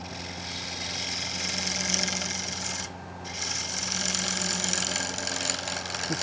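A 12 mm woodturning gouge with a 45-degree bevel peels out a square wooden plate spinning on a lathe. It makes a steady, close rasping cut under the lathe's hum, with a brief pause in the middle.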